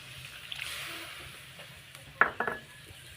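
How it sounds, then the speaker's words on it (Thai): Stir-frying in a pan with fermented fish sauce for a Lao-style dish: a faint, steady sizzle with a few sharp utensil clinks and scrapes near the end. "ขัวให้มันหอมน้ำปลาแดกก็ได้"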